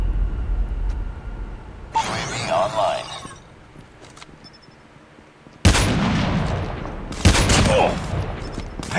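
Gunfire in a Call of Duty match comes as sharp, loud volleys of shots with bursts near the start and again toward the end. Voices talk over the game sounds.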